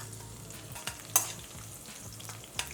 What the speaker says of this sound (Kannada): ಬೆಳ್ಳುಳ್ಳಿ ಎಲ್ಲ ಕೆಂಪಗಾಗಲಿ